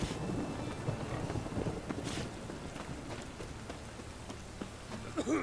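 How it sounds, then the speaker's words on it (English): Rain falls steadily in the video game The Witcher 3, a constant wet hiss with scattered small taps and gusts. "Must be mad running around in this rain."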